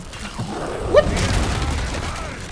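A grenade explodes in Resident Evil 4 Remake, a dull boom inside continuous game noise with rumbling and clatter around it.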